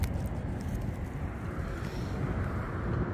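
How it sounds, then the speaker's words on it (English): Steady wind buffets the microphone outdoors during metal detecting, with low rumbling gusts throughout, no other clear sounds. "Getting a bit windy."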